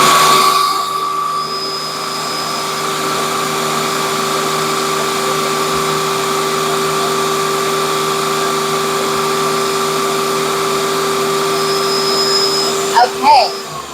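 A food processor blends hummus with a steady, loud motor whine that holds evenly for about thirteen seconds, then stops with a few quick clunks at the end.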